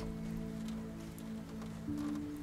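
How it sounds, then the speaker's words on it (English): Steady rain patters on a boathouse on a quiet night, a continuous soft hiss of drops with a low, even drone running beneath it and no voices. "The gentle patter of raindrops on the boathouse and the soothing sounds of the nature outside create a calming atmosphere."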